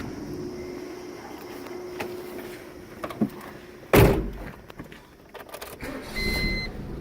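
Getting into a 1988 Honda Civic DX automatic: a sharp door thunk midway, then rustling and movement in the cabin, with faint electronic chimes near the end, no talking.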